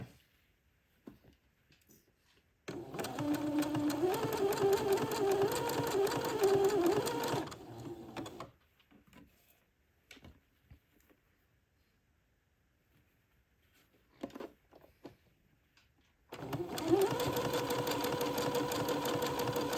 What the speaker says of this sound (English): this is going to take me a hot minute to zigzag 80 inches of lace and entre-deux